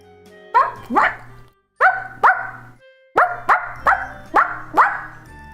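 A human voice imitating a dog, giving a series of about eight sharp, close barks in uneven pairs and runs, loud and clear with brief gaps between them.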